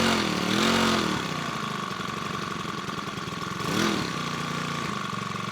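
A Makita EBH252U petrol brush cutter idles steadily as it warms up, a close mid-pitched two-stroke putter that swells briefly twice before settling back to a constant idle.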